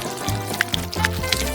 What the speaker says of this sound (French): Et il est assez chaud pour faire fondre notre reine des neiges Jillian.